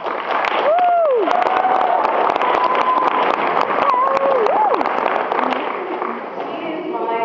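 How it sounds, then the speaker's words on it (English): Audience at a youth council event applauding an advisor, a sustained loud wash of clapping with whoops and whistles rising over it. "Let me give her a round of applause"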